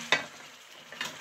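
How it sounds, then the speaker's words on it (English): Ingredients stirred together in a cooking pot, two short scraping strokes against a soft background sizzle, heard close and without talk. "I'm just going to mix all that together"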